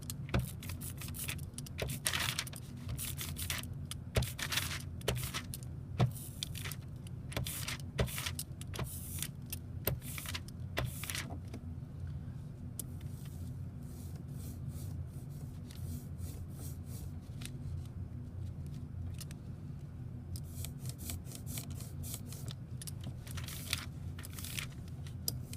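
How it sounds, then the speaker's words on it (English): Sticky printing ink rolled with a brayer on a printing plate for a reduction print, giving repeated tacky crackling bursts in an uneven rhythm, close up and alone with no speech. "listen for that stickiness that we know is going to help us to make sure that we have enough ink on the brayer"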